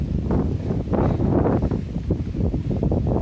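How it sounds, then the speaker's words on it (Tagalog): Strong wind at a lakeside campsite buffets the microphone in loud, rough gusts, a continuous low roar that rises and falls without letting up. "Malakas na yung hangin"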